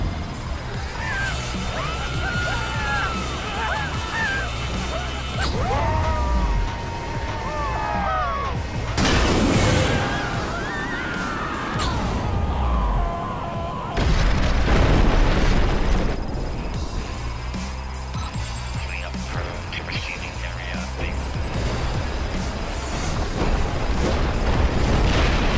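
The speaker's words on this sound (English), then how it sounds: "Explosions detected." Explosions demolishing a structure in the video game ScreamRide, with repeated booms, crashing debris and rumbling collapse over a dense, noisy game soundtrack, loud and sustained, with a synthetic voice speaking at times.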